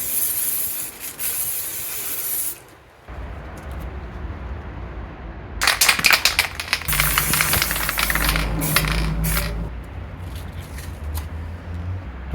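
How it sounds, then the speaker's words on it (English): Adhesive spray hissing from an aerosol can in several bursts, a steady close hiss with a short pause and a louder rattling stretch in the middle. "I'm not super wild about this adhesive spray because it's leaving some marks"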